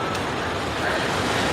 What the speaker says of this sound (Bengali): আমরা একদম ঝর্ণার নিচে চলে এসেছি